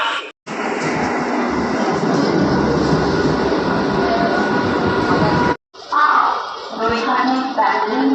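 Train pulling into Sodepur railway station, a loud continuous rumbling roar of wheels and carriages heard up close, then a short break followed by quieter train noise with voices talking.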